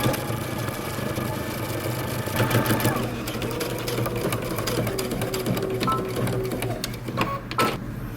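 A sewing machine stitches down a jacket flap at a quarter-inch seam, humming continuously at a steady pace for several seconds, close and fairly loud, with a few faint clicks near the end.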